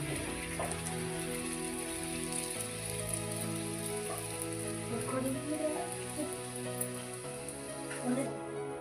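Puri frying in hot oil for a North Karnataka-style dish, a steady fine sizzle and crackle that runs the whole time at a moderate level, with a voice talking now and then.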